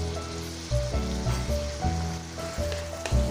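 Homemade fermented bamboo shoot tipped into a pan of fried tomatoes sizzles steadily for a few seconds, with louder bursts as the pieces land, over a sustained musical hum.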